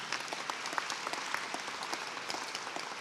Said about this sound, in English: I would love for you all to give your hands a round of applause